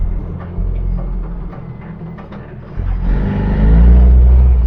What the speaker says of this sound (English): And a very loud exhaust apparently.